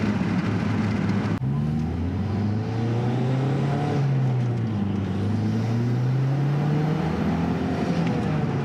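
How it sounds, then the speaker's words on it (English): A Mazdaspeed 3 drives along at speed, its engine drone rising and falling smoothly with gear changes, steady and close inside the cabin with road noise and no talk. "I'm in the Speed 3. I'm zooming along."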